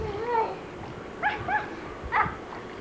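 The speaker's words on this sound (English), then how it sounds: "She's a dog" A dog gives a short whimper followed by several sharp, high yips and barks in close range, in brief bursts with pauses between, in a 1988 California home setting.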